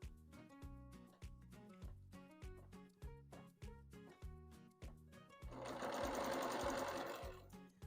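A sewing machine runs edge-to-edge stitching across a quilt, its needle thumping in a quick, even rhythm that speeds into a dense, continuous whir toward the end, close and clear.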